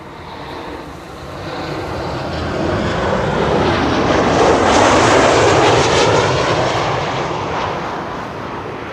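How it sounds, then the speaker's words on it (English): An Airbus A380 arriving on the Kaagbaan runway at Schiphol, its jet engines a broad roar that builds from a distance, peaks loud overhead and slowly fades, with no speech. "We have confirmation that the A380 is also coming to the right runway."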